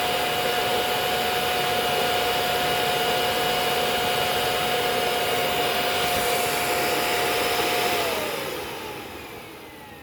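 Lindhaus HF6 vacuum cleaner motor running during an airflow test at the base of the machine, a loud steady roaring whine with a faint tonal hum, its motor slightly unhealthy, winding down over the final two seconds.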